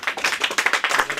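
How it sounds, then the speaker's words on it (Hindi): Hearty audience clapping at a Hindi kavi sammelan poetry gathering, a dense, steady patter of many hands at close range, with no talk over it. "एक बार जोरदार तालियां"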